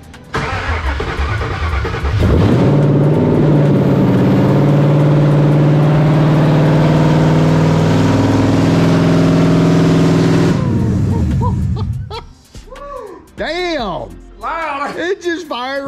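A supercharged Coyote-swapped Mercury Marauder cranks and fires up after a couple of seconds, then holds a loud, deep, revving rumble for about eight seconds before shutting off, with people talking afterward.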